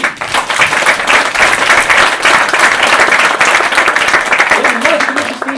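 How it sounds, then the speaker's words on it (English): Audience applause for a volunteer named Steve called up on stage at a Morgan and West parlour magic show, dense steady clapping that fills the room for several seconds with a voice coming in near the end. "a round of applause for Steve"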